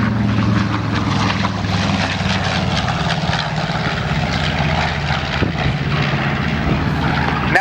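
Propeller warbirds, a P-40 Warhawk and a Zero, fly overhead at a Houston air show, with a steady, loud droning engine roar that holds throughout without breaks.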